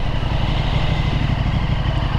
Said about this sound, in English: Oh, it sounds so good. I'm getting more backfire with the baffle out as well